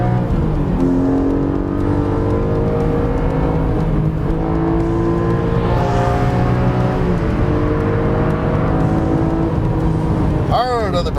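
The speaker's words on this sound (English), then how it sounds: "Now you hear the rev matching is because we have it in Sport Plus." A Porsche 718 Boxster/Cayman GTS 4.0 flat-six blips its revs on each downshift under hard braking on track in Sport Plus mode. Close engine tones climb and fall in repeated sweeps, with a voice talking over the engine throughout.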